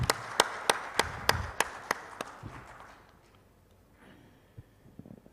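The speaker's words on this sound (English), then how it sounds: "So one big thunder round of applause" A handful of people clap for Nizamuddin at a formal gathering, sharp separate claps at a brisk, irregular pace that thin out and fade within a few seconds, leaving quiet room noise with a few stray sounds.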